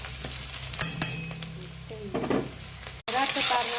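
Onions fry in a pan as the base for chicken curry, a steady close sizzle broken by a few sharp stirring clanks, then a louder burst of sizzling after a brief gap.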